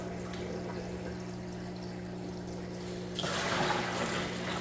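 Water poured from a bucket into an African cichlid fish tank, a steady near splash and trickle over a low pump hum, swelling louder toward the end.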